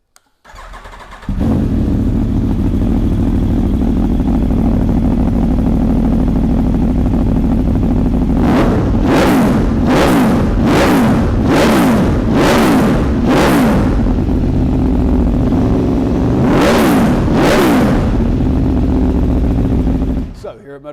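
An Aprilia Tuono V4 1100 Factory motorcycle's V4 engine fires up and idles loudly, then is revved hard in a rapid series of sharp bursts, followed by two more blips.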